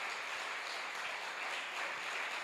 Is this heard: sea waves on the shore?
no